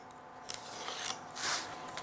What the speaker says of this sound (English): made chip carving knife, and again it is beautiful for cutting veneers